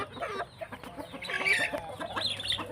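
Seven-month-old chickens cluck and chatter continuously nearby, several birds overlapping in a busy, uneven stream of short calls.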